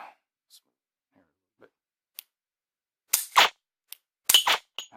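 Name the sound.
dry-fire shots with G-Sight LaserHit laser training pistol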